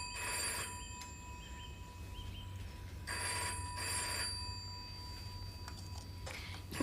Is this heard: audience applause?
no